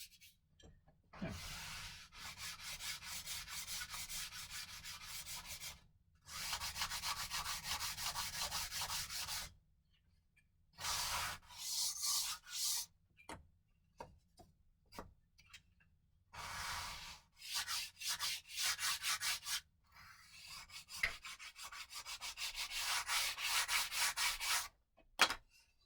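Wood is sanded by hand in repeated rasping strokes, close and fairly quiet, in bursts of a few seconds separated by short silent pauses.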